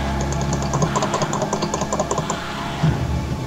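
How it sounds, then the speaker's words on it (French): Rapid, busy clatter of keys being hammered on a computer keyboard during a frantic Minecraft-based DayZ-style gaming session, steady and close throughout with a low hum underneath. "J'espère qu'on m'entend pas sur la vidéo en train de marteler le clavier."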